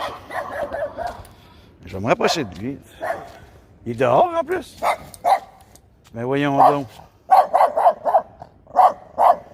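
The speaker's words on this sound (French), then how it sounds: "C'est un chien de garde." A small guard dog barks outdoors in repeated sharp yaps and a few whimpering whines, fairly close, alternating with someone talking in French.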